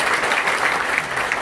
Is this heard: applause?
yes